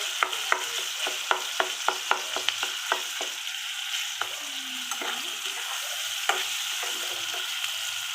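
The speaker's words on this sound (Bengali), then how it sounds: "পেঁয়াজগুলো নরম হয়ে গেছে, পেঁয়াজগুলো ভাজাও হয়ে গেছে।" Onions fry in a pan for a dried-fish curry, with a steady sizzle under a quick run of sharp spoon or spatula scrapes that slows and turns sparse. No one talks.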